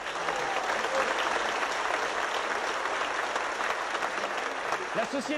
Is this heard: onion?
no